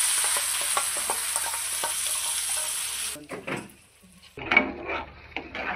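Ground masala sautés in hot oil for matar paneer, a steady sizzle with frequent stirring scrapes for about three seconds, then the frying quiets and a few clinks and pan knocks follow, with no talk.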